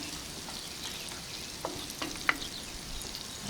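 Shrimp, garlic and lemon sizzle in a pan of melted fat, a soft, even frying hiss with a few small taps and pops, faint and close, with no one talking.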